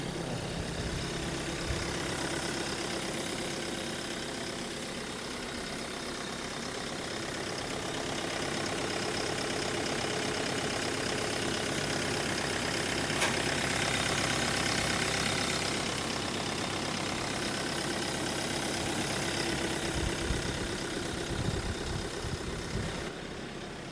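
Hyundai excavator engine idling, a steady, moderately loud mechanical drone with a low, even rumble that holds for the whole stretch without voices.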